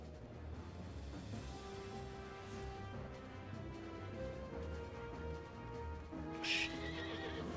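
A horse in Final Fantasy XIV Online, an Ixion mount, gives a neigh over a bed of game music, followed by a sharp snort or whinny burst near the end, no speech.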